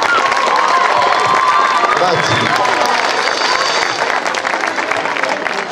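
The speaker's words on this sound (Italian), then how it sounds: "Un grande applauso a Stella," Audience applause and cheering fill an end-of-year school concert hall at the Verga school, dense and steady throughout, with a voice speaking over the crowd and the clapping thinning slightly toward the end.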